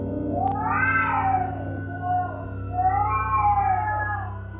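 A black cat wails loudly in a horror-story sound effect, with long, rising and falling yowls in several drawn-out cries and a brief pause between them, heard alone without talk.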